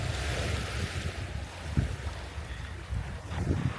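Waves wash onto a sandy Red Sea beach at Duba, Saudi Arabia, with a steady surf roar and heavy wind buffeting the microphone. No one speaks.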